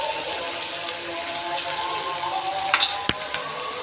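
Ginger and garlic paste frying in a pan, a steady close sizzle running throughout with a few faint scrapes and one sharp tap near the end.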